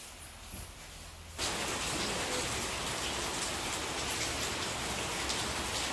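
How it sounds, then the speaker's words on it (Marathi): Heavy rain pours steadily outside during Diwali night, a dense, even hiss that starts abruptly after a quieter opening second and then continues unbroken without any voices. "जोरात पाऊस पडतोय"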